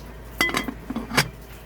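A metal lid set onto a cooking pot of sopas, giving a couple of close, brief clanks with a short ringing clatter, alone in a quiet kitchen.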